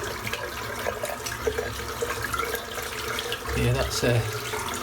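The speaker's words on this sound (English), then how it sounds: "Rinse the soap out." Running tap water rinses soap out of a shaving brush, a steady close splashing hiss with some sloshing, and someone speaks briefly over it.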